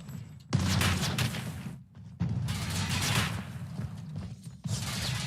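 Rapid bursts of automatic gunfire from the Call of Duty: Mobile video game, three dense, loud volleys broken by short gaps with a few quieter mechanical clicks and no talk.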